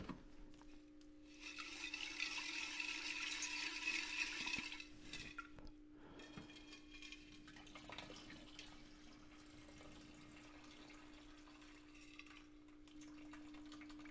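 Water splashing and running as silver crystals are rinsed of electrolyte, a brighter gush early on that settles into quieter trickling and faint rubbing, close and low in level.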